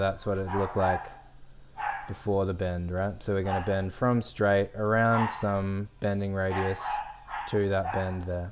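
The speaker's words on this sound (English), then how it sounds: "Excuse my dog, by the way. He's very upset that he's being left upstairs while we're live streaming." A dog left upstairs barks and yips repeatedly in quick runs throughout, fairly loud and near, while someone talks steadily over it.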